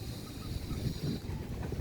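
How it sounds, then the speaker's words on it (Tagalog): Wind blows across an open rooftop garden where bitter gourd vines grow, a continuous rumbling gusty buffeting with fluctuating strength throughout, no voices. "Ang hangin dito sa itaas,"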